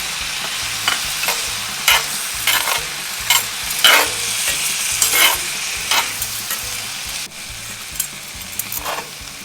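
Corn kernels and black beans being stirred in a hot pan for chicken enchiladas, with loud sizzling frying and repeated scraping strokes of a spoon, no talking.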